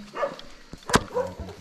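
A dog barks outdoors during a ride near the rice terraces of Sagada, giving a few sharp, separate yaps and woofs close by, with faint background noise between them.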